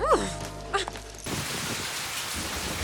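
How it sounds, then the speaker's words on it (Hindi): Heavy rain falls steadily as a broad, constant hiss, with faint voices and tonal sounds briefly audible over it at the start. "देखो ना, इतनी बारिश हो रही है"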